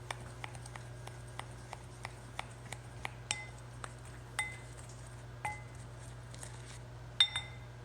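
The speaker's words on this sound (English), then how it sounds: "And we're going to stir that together, get those combined." Ingredients stirred together in a bowl, a spoon or whisk tapping and clinking against the side in light irregular strikes over a steady low hum, close and fairly quiet.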